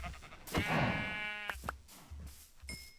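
Sheep in a video game give a couple of nasal, wavering bleats, fairly close and clear, followed by short softer bleats and game noises.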